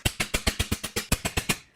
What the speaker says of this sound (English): Let me tap that down with the hammer